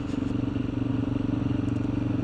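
Motorcycle ridden on a rural exploring trip, a steady pulsing engine drone close by with some clatter, continuous throughout without talk.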